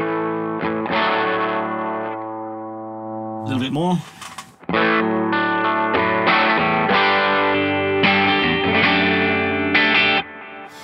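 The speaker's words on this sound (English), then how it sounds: "So now we're going into the drive channel on the Stereotone OTS Mini, which sounds a little like this." Electric guitar through the drive channel of a Stereotone OTS Mini pedal, playing loud sustained chords with mild edge-of-breakup grit and a brief bent note midway, with a short spoken remark in between.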